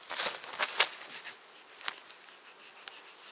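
Honeybees inside a hive buzz softly and steadily at close range, with a few scraping and tapping noises near the start before the humming settles into a faint, even drone.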